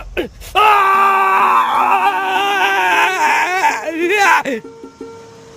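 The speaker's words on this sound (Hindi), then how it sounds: "अतुल अब दर्द में चीखने लगा।" A man's loud, sustained scream of pain as a horror-story sound effect, a strained, wavering howl that rises and trembles for several seconds before breaking off into fading gasps.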